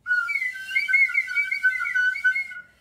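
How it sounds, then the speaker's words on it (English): A slide whistle blown alone for under three seconds, a clear, airy tone that wavers in pitch with a fluttering, uneven loudness before cutting off. "everybody get your slide, if you have your slide whistle"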